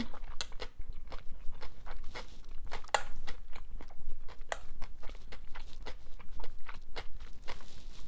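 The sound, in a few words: eating and chewing food during a mukbang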